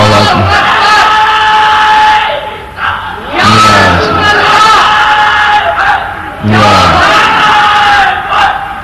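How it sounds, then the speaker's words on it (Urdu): A large crowd at a religious speech by Allama Kokab Noorani Okarvi loudly chanting slogans in unison, three big roaring waves of voices rising and falling, very close and loud. "نعرے اتنے لگاؤ گے تقریر کم رہ جائے گی۔"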